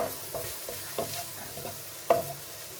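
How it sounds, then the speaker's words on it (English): Garlic granules and spices stirred through a hot pan for baked chimichanga filling, a steady scraping with soft sizzle underneath and a few sharper knocks of the spoon against the pan, close and fairly quiet. "So we're just going to give that a good mix."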